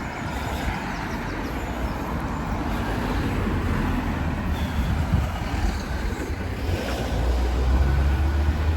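Road traffic on a village road near Chigwell Row, with a car's engine and tyre rumble rising steadily from fairly close, low and continuous, growing louder toward the end as it approaches.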